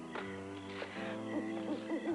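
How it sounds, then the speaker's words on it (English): A North American hoot owl gives a few soft, wavering hoots in quick succession, heard over a steady musical backdrop. "it was nothing but a North American hoot owl"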